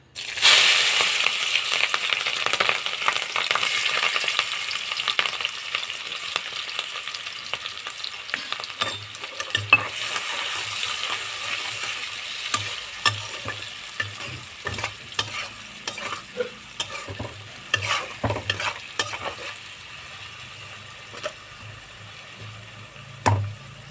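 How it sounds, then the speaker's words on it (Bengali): Sliced onion and green chilli hit hot oil in a pan with a loud sizzle that gradually settles. A spatula then scrapes and stirs in quick, irregular strokes over the quieter frying, with no talk. "এবার দেব পেঁয়াজ আর কাঁচা লঙ্কা।"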